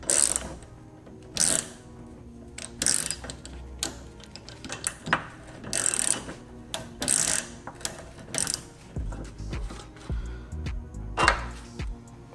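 A 14mm socket ratchet unbolting a car sway bar end link on an Acura RSX, with bursts of rapid clicking ratchet strokes and metallic clatter, close and loud, separated by short pauses.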